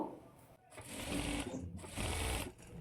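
An electric sewing machine stitches a straight seam on a blouse, running in two sustained, steady whirring bursts separated by a brief pause, close and loud, with faint talking underneath.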